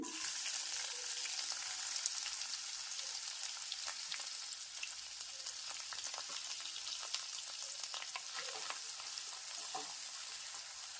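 Onions frying in hot oil with cumin seeds give a loud, steady, close crackling sizzle that continues without a break, with occasional stirring and no talk.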